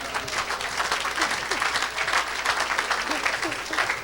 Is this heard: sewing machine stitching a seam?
no